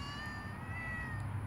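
A cat meowing close by in one long, drawn-out, steady call with no talk.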